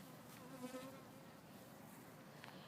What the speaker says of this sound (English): Now that's a bee.